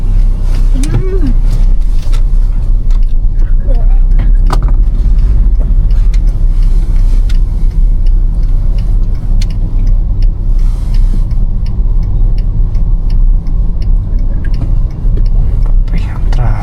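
A Hyundai Reina with manual transmission climbs an uphill road, its engine a steady loud drone with continuous road rumble from inside the cabin, with occasional quiet talk.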